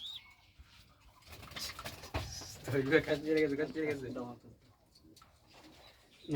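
Racing pigeons in a loft coo softly and flutter nearby, their low throaty calls mixed with light rustling, while people talk in the foreground over them.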